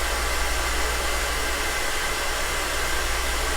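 A hair dryer blow-drying hair roars in a steady, loud, unbroken whoosh of air throughout, with no talk.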